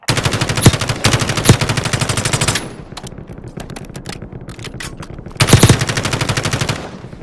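Automatic machine gun fire in Call of Duty Warzone Mobile: a long, loud rattling burst, a lull with scattered distant shots, then another sustained burst near the end.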